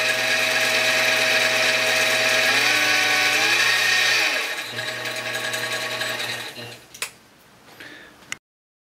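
An X2 mini-mill (CX605) runs in its high range with a steady whine and gear mesh noise, loud and continuous, then winding down near the end with a couple of brief knocks.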